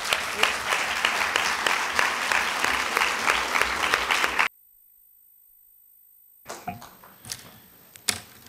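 Dense audience applause for Monsieur Joly, director of an autism resource centre (CRA), fills the room loudly for about four and a half seconds, then cuts to silence before a few faint knocks and shuffles.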